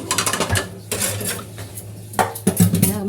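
Dishes washed by hand in a kitchen sink, with repeated clinks and clatters of plates, pots and cutlery knocking together in an irregular rhythm, close and fairly loud.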